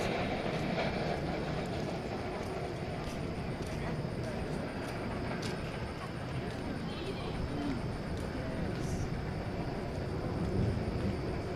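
An airliner bound for Madrid taxis at DFW Airport toward runway 17 Right for a night takeoff, its steady engine roar continuous and moderately distant, with a voice talking over it.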